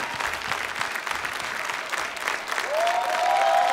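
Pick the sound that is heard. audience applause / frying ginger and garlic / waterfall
audience applause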